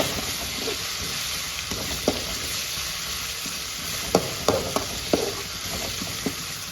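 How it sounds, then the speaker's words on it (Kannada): Ginger garlic paste frying in a pan for a chicken dish, producing a continuous close sizzle with a few sharp scrapes and taps of a spatula stirring it, no speech. "ಇದನ್ನು ಫುಲ್ ಕಲರ್ ಚೇಂಜ್ ಆಗೋದಂತೆ ಫ್ರೈ ಮಾಡ್ಕೊತಾ ಇದ್ದೀನಿ"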